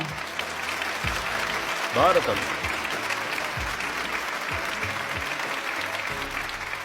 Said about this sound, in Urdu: ان کے لیے تالیاں